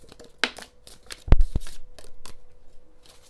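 Tea leaf oracle cards shuffled by hand for a pick-a-card reading, several quick close riffles and flicks with one sharp louder snap near the middle, then softer rustling.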